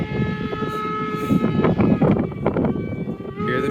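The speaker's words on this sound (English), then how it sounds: "Hear the train coming around the bend." A train comes around a bend at Golden Spike National Historic Place, a continuous rumbling roll under a steady tonal whine that swells and holds, fairly loud and close, with no voices.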